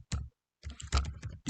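Keys on a computer keyboard clack in quick bursts as a file name is typed, two short clusters separated by a pause, close and fairly loud with no voices.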